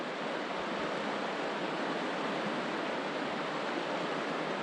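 Columbia River water rushing in a steady, loud, unbroken wash that fills the whole stretch, with no voices heard.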